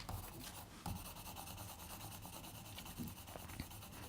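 Colored pencil scratching across paper in a kid's drawing of a pirate, a soft, continuous rasp of quick back-and-forth strokes close to the mic, faint and with no talk.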